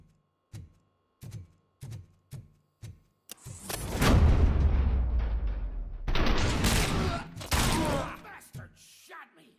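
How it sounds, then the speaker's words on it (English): In the video game RoboCop: Rogue City, five sharp single shots ring out evenly spaced, then a burst of heavy, sustained gunfire and explosions roars loudly, like a shootout. "Am I hearing gunshots?"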